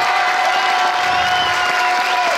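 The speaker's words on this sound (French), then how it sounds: "Vous pouvez les applaudir" A crowd at a French political rally for Valérie Pécresse in Brive-la-Gaillarde applauds young campaign volunteers, with steady, dense clapping and faint cheering throughout the short stretch, loud and continuous with no talk on top.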